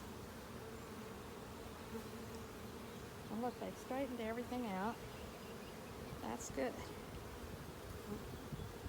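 Honey bees buzz steadily throughout a May hive inspection while a frame is lifted, with a louder, wavering swell of nearby bees midway; a person talks briefly over the hum.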